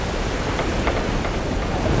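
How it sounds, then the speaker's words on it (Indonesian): Storm waves crash in a historical film about an Islamic scholar of the Nusantara, a dense, roaring wash of surf and wind that stays loud and continuous throughout, with no voices. "Badai topan, bergunung-gunung ombak bukan lagi ancaman."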